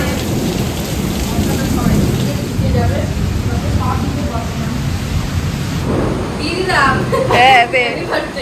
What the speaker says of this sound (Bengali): ঝড় হচ্ছে, বৃষ্টি হচ্ছে